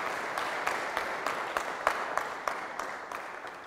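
Congregation applauding during a rite of passage Holy Mass at a church, a dense, fairly soft wash of clapping with a few sharper individual claps standing out, fading slightly toward the end.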